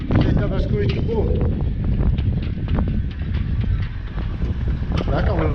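Steady gusting wind blows in a harbour at 16 knots, buffeting the microphone with continuous low rumbling noise, with occasional faint knocks and clatter from boats nearby.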